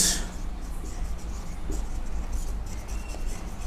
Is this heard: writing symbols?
yes